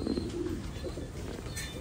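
A trumpeter pigeon on a pigeon farm coos in low, soft, rolling bursts, fairly close, with faint background noise and light chirps.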